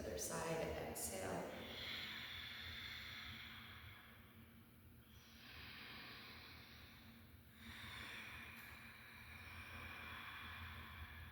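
Slow exhaled breath during a yoga twist, soft and airy against a steady low background hum, with breathy swells rising and fading over several seconds.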